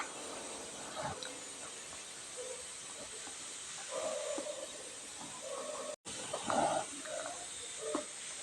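Cumin and fennel seeds spluttering in hot oil for a tomato gravy, a steady close sizzling hiss with small pops throughout, briefly broken once.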